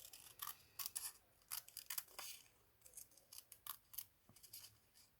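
Scissors snipping through paper for a scrapbooking craft, a close, crisp run of irregular cuts with brief pauses between clusters and no talking.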